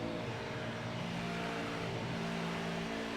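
A field of NASCAR Next Gen race cars roars around the oval at Kansas Speedway, a sustained engine drone heard from a distance with shifting pitch as the cars pass and no voices.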